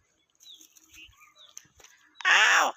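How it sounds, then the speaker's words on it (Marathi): A single loud, harsh caw from a crow perched in a small tamarind tree rings out near the end, after a stretch of faint, scattered background sounds. "बघा या झाडावरती आता कावळेत"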